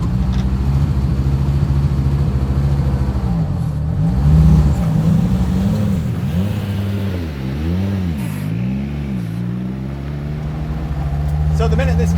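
A 1985 Audi Sport Quattro S1 rally car engine, stripped interior with roll cage, revs and accelerates loudly up close, its pitch sweeping up and down through several gear changes, with a person talking over it.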